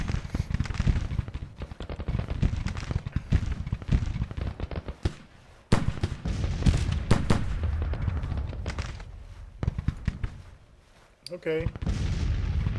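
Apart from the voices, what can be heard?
12-pound field gun and howitzer artillery fire, video game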